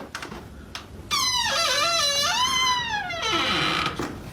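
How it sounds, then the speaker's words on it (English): A door creaks loudly in a long, drawn-out squeal that bends up and down in pitch for about three seconds, heard alone and close after a few soft knocks. "Loud ass door."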